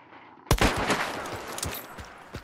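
A burst of gunfire in the video game Hunt: Showdown: a sharp first shot followed by several quick, echoing reports and a later shot, loud and close with no talk.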